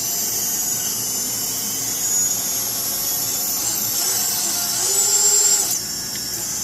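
Ideafly Grasshopper F210 racing drone with its motors spinning at idle up, a steady high-pitched electric whine held close throughout and swelling briefly near the end before settling back.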